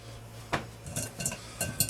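Metal sieves and a measuring bowl are handled and set together in a kitchen, making several quiet clinks and taps spaced irregularly over a faint background hum.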